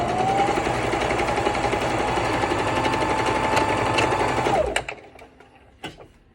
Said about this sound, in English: I've been sewing 1 stitch down the middle.